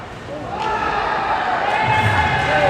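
Arena crowd at a Kansas City versus Omaha ice hockey game swelling into a loud, sustained roar as a referee goes down, with a commentator talking over the noise.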